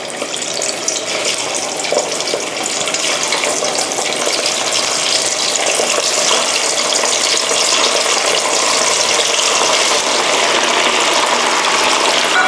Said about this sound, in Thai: นำคอหมูนะคะ ที่เราหมักเรียบร้อยแล้วนำลงทอดค่ะ